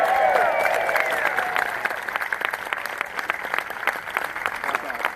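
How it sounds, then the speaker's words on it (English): Crowd applause at an outdoor health care rally in Roanoke, a dense wash of clapping that starts strong and gradually thins into scattered claps, with a voice briefly heard at the start. "Let's give a big round of applause."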